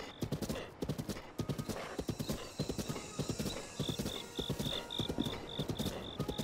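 Horse hooves in the video game Zelda: Breath of the Wild, a rapid rhythmic clip-clop of galloping strides that runs throughout, joined by a repeated high tone partway through.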